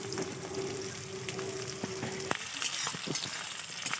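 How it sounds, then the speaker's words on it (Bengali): Onions frying in oil in a pan crackle and sizzle nearby, with scattered sharp clicks and scrapes from stirring, especially in the second half. "দেখো পেঁয়াজগুলো একটু ভেজে নিচ্ছি ভালো করে।"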